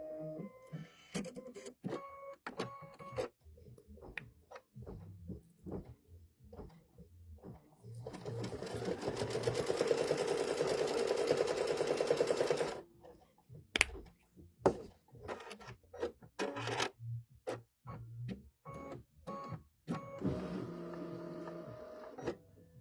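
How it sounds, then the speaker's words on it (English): An embroidery machine stitches a lollipop stick fill in light gray thread for a bench pillow, a rapid steady mechanical whir for several seconds, framed by quieter clicks and a person talking before and after. "we are going to stitch the lollipop stick"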